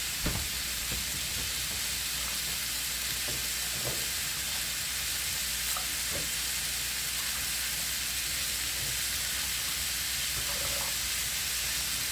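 A green pepper and turkey skillet dish sizzles steadily in a pan as it starts to burn, a constant close hiss with occasional faint pops and utensil taps, no talking.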